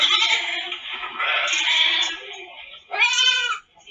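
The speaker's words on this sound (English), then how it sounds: "The goats are coming." Goats bleat close by in a farmyard setting, first in a wavering, drawn-out cry and then in a sharper, clearer bleat near the end.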